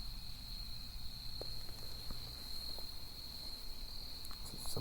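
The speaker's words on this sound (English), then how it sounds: "I think it's just the noise of like the crickets kind of like Yeah. reverberating through the stones or something" Crickets chirping at night among old stones, a faint, thin continuous trill carrying a slight echo, with scattered soft ticks and rustles nearby and no talk.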